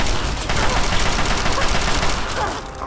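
Gunfire in the video game Fallout 3 crackles in a loud, dense volley of rapid shots lasting a few seconds, close and continuous, with no speech.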